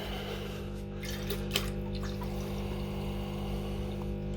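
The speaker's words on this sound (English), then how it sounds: "So now I'll pour this in." Liquid is poured during gold refining of unknown-karat jewelry, a soft, steady watery wash with faint trickles and a small splash, heard alone over a constant low background hum.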